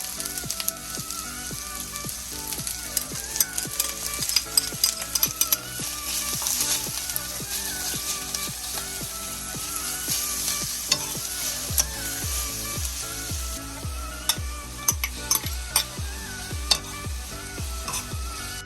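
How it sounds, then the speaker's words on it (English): Onion and scallion sizzle steadily in a hot pan, with a utensil scraping and stirring in a clattering rhythm that grows more regular and punchy toward the end; no voices. "Saute onion and scallion until soft."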